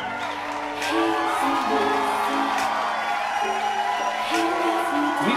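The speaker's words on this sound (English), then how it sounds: "Loud round of applause for Maggie." Loud crowd cheering and clapping at a quinceañera in a Houston banquet hall that swells after a moment, with whoops and shouts rising over steady applause.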